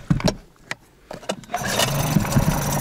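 A small Yamaha 3 hp outboard motor on an inflatable boat is pulled to start, a few sharp cranking knocks, then it catches and settles into a close, steady buzzing idle.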